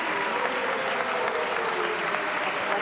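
An audience at a 1990 awards show claps in a steady, dense wash of applause that holds an even loudness from start to finish, with no voices breaking through.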